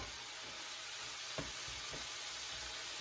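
Chili ingredients sauteing in a hot pan, a faint steady sizzle with a few soft stirring scrapes, quiet and without voices.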